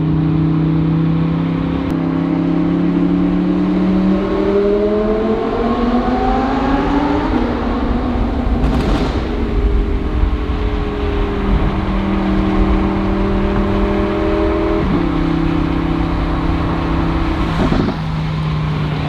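A loud, deep straight-piped Audi R8 V10 Plus exhaust roars as the car accelerates through the gears, pitch climbing and dropping between shifts, with brief bursts of wind noise.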